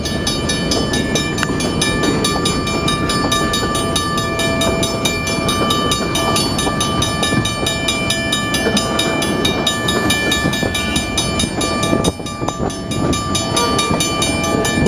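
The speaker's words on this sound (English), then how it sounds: "it's just sounding its horn over at Normal Avenue right now." A freight train pulled by GP40 locomotives rumbles steadily nearby while a sustained horn tone sounds over the noise at a crossing, loud and continuous with no speech.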